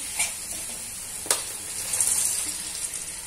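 Curry leaves frying in hot oil for a Maharashtrian chivda, a steady close sizzle with a few brief crackles and pops, no talking.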